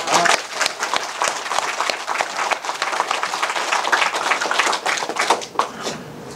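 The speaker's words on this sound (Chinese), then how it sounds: "我们给自己来一次掌声，" An audience at a lecture on classical Chinese cultural education for a backbone-teacher training class applauds, dense sustained clapping from many hands filling the room, loud and continuous before tapering slightly at the end.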